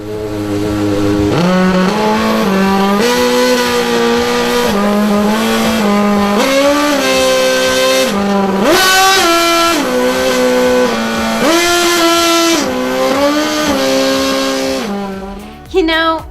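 Race-car sound effects for a children's birthday segment: a loud, continuous engine roar that climbs and drops in pitch in stepped bursts, like revving through gears, ending in a short squeal.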